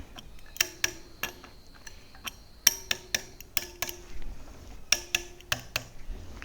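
Sur Ron electric motorbike wheel spokes being tapped one after another to check tension, a series of short bright metallic pings and ticks in an irregular rhythm, close and fairly quiet.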